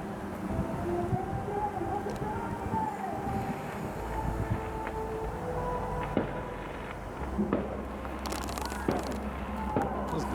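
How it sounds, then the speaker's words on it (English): New Year fireworks pop and crackle in scattered bursts from a distance, mixed with wind rumble and a low background roar, with no talking. "Bro, they got fireworks in the UK, in the EU?"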